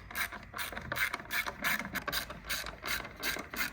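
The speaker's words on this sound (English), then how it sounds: "use a 10mm hex socket, undo the bolts on the bracket" A 10mm socket ratchet clicks rapidly in repeated bursts while undoing bracket bolts on a Mazda 2.2 Skyactiv diesel engine, close and crisp, about ten short strokes with brief pauses between them.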